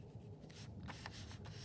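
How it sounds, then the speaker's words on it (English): A pencil or crayon drawing a zigzag line on paper, a close, quiet scratchy rubbing that sweeps side to side in short strokes, with no talk. "I'm going to make kind of like a zigzaggy line"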